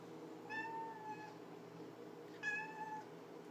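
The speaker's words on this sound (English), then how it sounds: "That's one of your future cats." A cat gives two drawn-out meows a couple of seconds apart, clear but fairly quiet over a steady background hum, with no talking.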